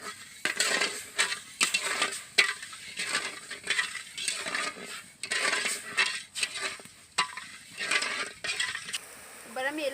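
Sugar and water stirred together in a pot for syrup, a spoon scraping and clinking in quick, irregular strokes, close and fairly soft, with no talk.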